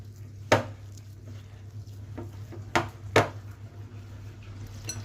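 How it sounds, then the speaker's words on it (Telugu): Spoon or whisk knocking against a bowl while gobi 65 batter is mixed with water, a few sharp clinks over a steady low hum, no talk. "కొంచెం వాటర్ పోసుకొని కలుపుకోవాలి."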